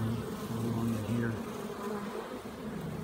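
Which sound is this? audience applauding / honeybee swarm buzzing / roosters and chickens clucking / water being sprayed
honeybee swarm buzzing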